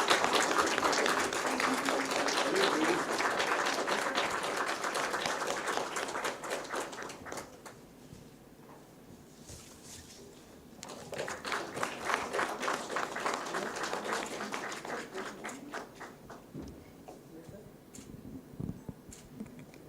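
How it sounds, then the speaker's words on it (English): An audience at a formal report launch event applauds, a sustained patter of many hands that thins partway through, then swells again before tapering off, moderately distant. "A round of applause, please."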